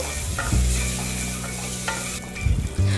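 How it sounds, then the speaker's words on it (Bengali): Eggs frying in a pan with a little turmeric powder and salt, loud close sizzling broken by scraping stirs and clatter of a spatula against the pan over a few seconds. "মিনিট 3 ধরে ডিমগুলো আমি ভেজে নেব"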